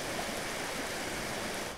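Rain falls steadily in a nature setting, a dense, even wash of drops and water noise that stays loud throughout and fades slightly at the very end.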